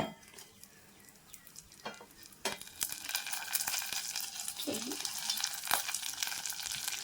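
Dry fruits such as cashews and almonds hit hot ghee in a pan and fry with a bright, continuous sizzle that starts suddenly after a quiet moment, broken by occasional scrapes of stirring, close and fairly loud.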